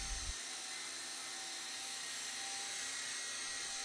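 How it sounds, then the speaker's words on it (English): A Twister Hawk toy helicopter lifts off a floor and hovers, its small motor and rotors giving a steady, high-pitched whine that runs unbroken and fairly close throughout. "extra throttle briefly to raise the helicopter off the floor and into the air for a second"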